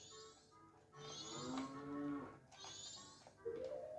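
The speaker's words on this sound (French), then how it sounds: "Là, on a justement une vache." A cow lowing in the video game Zelda: Majora's Mask, two drawn-out moos with a synthetic tone and steady pitch, set against soft game ambience and layered with brief whistling tones, moderately quiet and close, no talking.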